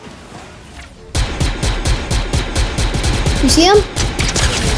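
Rapid bursts of Fortnite gunfire ring out close and loud in a steady rattling rhythm after a brief quiet start, with a short rising whoosh partway through and a player speaking briefly over the shots.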